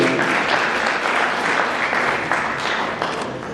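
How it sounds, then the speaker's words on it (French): Dense, loud, continuous applause fills the room at a networking dinner as the audience salutes a guest being honoured, with many hands clapping at once and no pause throughout. "Je vous demande d'applaudir."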